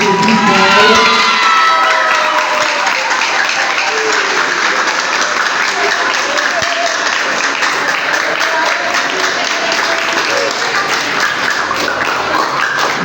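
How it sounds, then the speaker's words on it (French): Sustained, loud applause from a crowd at the final of a hymn and praise singing contest held by a scout club, dense clapping with cheers and children's shouts that holds steady throughout. "On applaudit encore une fois"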